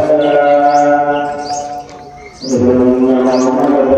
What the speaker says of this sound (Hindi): चिड़ियों की चहचहाट और कुदरती एटमोसफियर